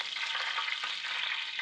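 Whole garam masala spices frying in hot oil in a pan for a chicken cashew coconut curry, a steady dense sizzle with crackles and spits running throughout, close and loud.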